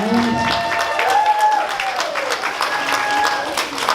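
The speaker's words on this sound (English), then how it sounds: "let's give them all one huge round of applause" A large audience claps continuously, with cheering and raised voices rising over the applause.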